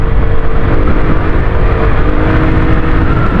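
Motorcycle engine running smoothly at steady speed after regular maintenance, on a ride from Nuvali, Santa Rosa, Laguna to Tagaytay City; a continuous loud drone with road and wind rush, no talking.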